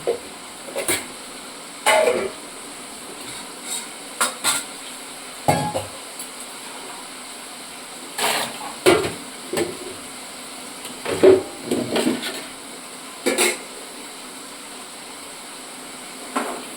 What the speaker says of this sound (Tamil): பாவக்காய் எண்ணெய் கொஞ்ச நேரம் வதக்கிக்கோங்க.